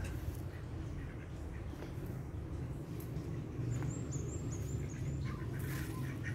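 Pet ducks call in short, rough bursts against a steady low outdoor rumble, with a thin high whistling sound near the end.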